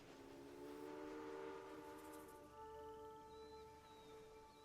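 A continuous mechanical hum with sustained tonal notes of trains running in the video game Railway Empire 2, with a soft whistle-like tone; faint chirps appear near the end.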